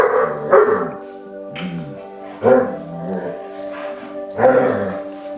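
A dog barks in sharp bursts, roughly three loud barks spaced a couple of seconds apart, with softer yips and whines between them, close by.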